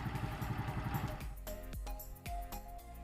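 A tuned motorcycle carburetor engine idles steadily around 1,350 RPM, a close, continuous low throb with light mechanical clatter and a few sharp ticks, heard alone with no talk.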